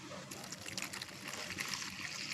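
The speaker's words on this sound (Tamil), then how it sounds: "தண்ணி ஊத்திக்கலாம்." Water is poured over stripped corn kernels in a kitchen bowl to wash them, a soft, steady splashing trickle heard faintly and close for a couple of seconds.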